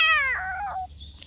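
A cat gives a single drawn-out meow that starts strong and slides downward, followed by a softer trailing cry, close by with faint background hum and no talking.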